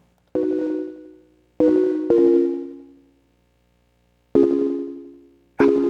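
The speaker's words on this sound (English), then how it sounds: "The echo gets a slap back at 16th notes this time." An Ableton Push 3 synth plays five separate plucked notes in an uneven rhythm, each with a sharp attack and a decaying tail, and silence falls between the notes. No voices are heard.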